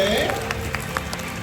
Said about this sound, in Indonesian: Untuk kali ini kembali berikan semangat tepuk tangannya boleh.